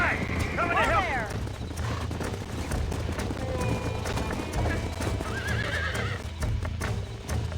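A horse in the Red Dead Redemption video game whinnies twice while its hooves clip-clop in a steady rhythm, loud and close, with game sounds around it.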